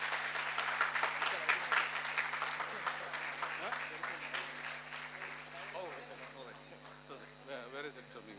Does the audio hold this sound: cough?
no